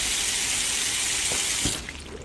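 Running water pours steadily from a tap in the video game Apex Construct, a broad continuous hiss that cuts off near the end, leaving a faint quiet tail.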